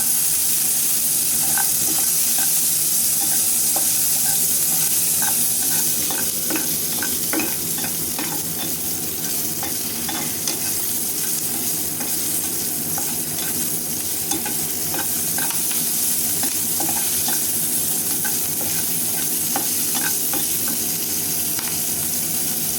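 Dried red chilies and green chilies fry in a pan, a loud continuous sizzle with repeated stirring scrapes and clicks throughout, without voices.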